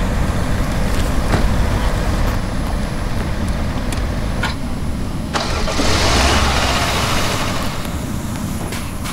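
A vehicle engine in the Roblox game Dusty Trip rumbles steadily throughout, loud and close, with a few sharp clanks and a rising whoosh partway through.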